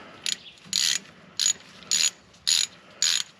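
A ratchet turns a Torx bolt out of a Jeep bumper, six crisp metallic clicking bursts in an uneven rhythm, close and clear with no talking.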